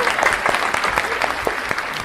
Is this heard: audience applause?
yes